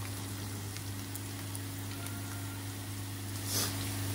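Onions frying in oil in a pan, cooked for a restaurant-style Karachi chicken biryani, giving a steady low hiss and faint crackle under a constant kitchen hum, with a brief louder burst near the end.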